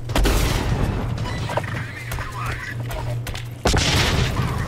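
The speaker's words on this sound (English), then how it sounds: "Grenade!" A grenade detonates in the shooter game Blacklight Retribution, a loud booming blast at the start followed by a sustained low rumble and a second heavy burst near the end, with game noise throughout.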